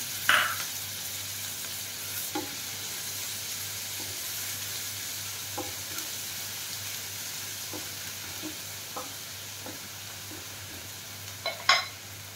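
Pointed gourd, hollowed and seeded, sizzling in hot oil with chopped ginger and green chilli, a steady soft frying hiss punctuated by occasional clicks and scrapes of stirring, no voices.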